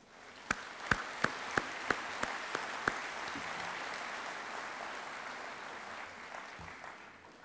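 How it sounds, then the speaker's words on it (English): A conference audience applauds at the closing ceremony of the ITU's WRC-19 World Radiocommunication Conference: a few sharp, loud claps open into steady, dense applause that carries on throughout and then slowly fades. "Please give them a big applause."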